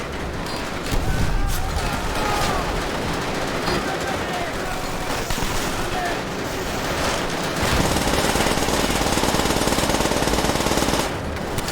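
Gunfire in the World War I shooter Call of Duty WWI, continuous rapid machine-gun bursts and rifle shots rattling loudly throughout, with someone talking over the shooting.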